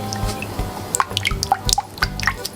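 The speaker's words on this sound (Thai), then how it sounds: "ใส่เกสรีนลงไปนะคะ" Glycerin poured into a warm melted coconut oil lotion mixture, giving a run of small liquid drips and splashes with light clinks, close and fairly clear.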